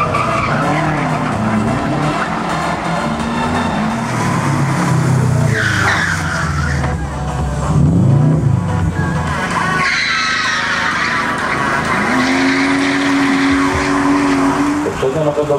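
A rally car skids and slides on a rally special stage, tires hissing and engine revving in surges with a passing roar; a commentator talks over it.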